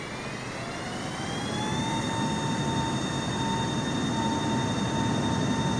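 A Boeing 747 jet in a flight game spooling up and roaring down an aircraft carrier deck for takeoff, a steady loud engine drone with rising whine tones that climb and hold.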